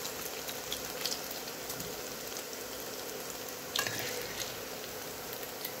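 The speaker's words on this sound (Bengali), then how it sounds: "পনিরগুলি আমাদের প্রায় ভাজা হয়ে গেছে" Paneer pieces frying in hot oil in a kadai, a steady, fairly quiet crackling sizzle throughout with a brief louder spatter near the end.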